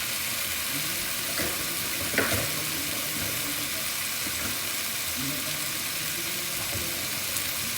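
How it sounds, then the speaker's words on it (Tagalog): Food frying and sizzling steadily in a pan, with broth being added to the hardened, burnt dinner dish; a continuous crackling hiss with soft stirring clicks, fairly close. "Lagyan na natin ito ng sabaw."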